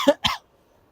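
Two quick, sharp coughs close by, then silence.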